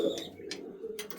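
Domestic flying pigeons kept in a loft, including a nesting pair, give soft low coos close by, with a few brief chirps rising over the murmur.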